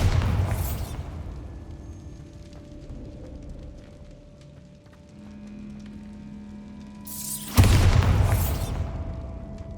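Two loud, booming blasts from the Bombarda spell in Hogwarts Legacy, one at the very start and another about three-quarters through, with a low rumbling game ambience and soft tones between them.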